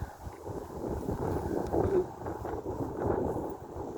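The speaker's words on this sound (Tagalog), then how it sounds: "Hangin na." Wind blowing through garden plants makes a faint, steady low rumble with gentle rises and falls, with no other distinct sounds over it.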